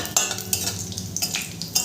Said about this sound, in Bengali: ফোড়নটা একটু নেড়ে চেড়ে ভেজে নেব।